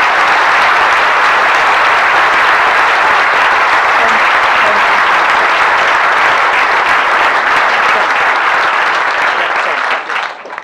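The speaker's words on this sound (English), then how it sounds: "that's why we're pleased to applaud him" An audience at a bird photography awards presentation breaks into loud, dense, sustained applause, close and continuous for about ten seconds before tapering off at the end.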